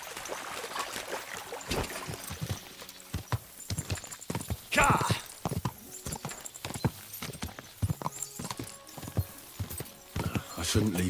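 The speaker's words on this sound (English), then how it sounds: "we'll give the horses a gallop again" Horses gallop in the video game Kingdom Come: Deliverance II, with a dense, rapid clatter of hooves beside a stream, while voices talk over the steady rhythmic pounding.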